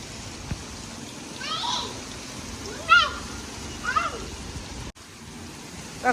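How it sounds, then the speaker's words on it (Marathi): Heavy monsoon rain falls in a steady broadband hiss throughout, with a few brief chirping, voice-like calls rising over it and a short dropout near the end. "कसला डेंजर पाऊस आलाय"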